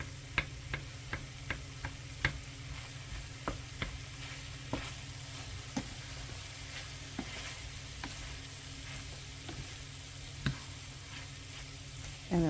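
Mixed vegetables coated in sauce warming in a pan, a quiet steady sizzle with sharp intermittent ticks and taps from a utensil against the pan.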